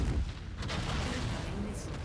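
Mech weapon fire in the MechWarrior game Merc Life: heavy booming impacts over a constant low rumble, with speech mixed in over the short stretch.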